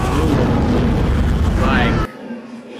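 A flamethrower roars in a World War II battle scene on Peleliu in a war TV series, a loud dense whooshing blast that cuts off abruptly, leaving faint background sound.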